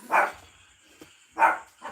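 A dog gives two sharp barks about a second apart, close and fairly loud, with a brief third bark starting at the end and quiet between them.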